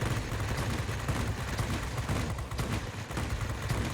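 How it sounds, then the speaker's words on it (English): Heavy cannon fire from the XFL-1 fighter in World of Warplanes, a dense continuous stream of rapid booming shots close and loud, running without pause across the whole stretch. "that big cannon making contact just totally decimates aircraft"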